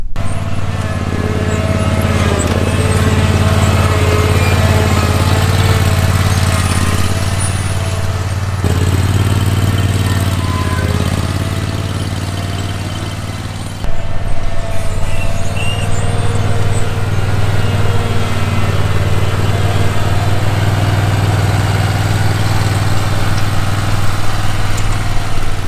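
A roller runs over freshly spread gravel at a dog enclosure build site, a steady low engine drone rumbling continuously with a brief dip midway, close and loud without any talk.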